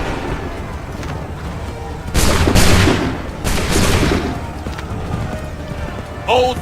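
Musket volleys in Assassin's Creed III, two loud crackling ragged bursts of massed gunfire a second or so apart, with game ambience and voices around them and a short sharp sound near the end.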